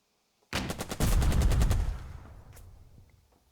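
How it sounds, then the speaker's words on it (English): Gunfire in the video game Burden of Command, a sudden close burst of rapid automatic shots followed by a heavier sustained blast that trails off into a long fading rumble, with no voices. "Hold the vehicle, bolster, and shoot"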